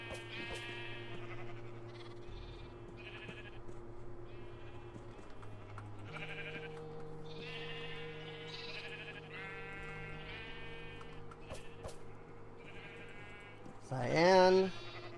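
Minecraft sheep bleats sound repeatedly against game background music, with a louder, sharper bleat near the end.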